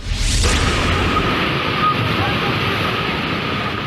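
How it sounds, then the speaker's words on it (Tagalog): Muddy floodwater rushes from Cathedral Falls in Kapatagan, Lanao del Norte, after heavy monsoon rain: a loud, steady, broadband roar of churning water with wind buffeting the microphone. "Rumagasa ang kulay putik na tubig mula sa Cathedral Falls sa Kapatagan, Lanao del Norte."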